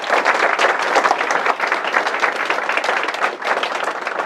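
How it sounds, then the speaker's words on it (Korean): A lecture audience of special forces regiment soldiers claps steadily and densely, a loud sustained wash of many hands with no pause over the whole stretch. "박수를 쳐야지"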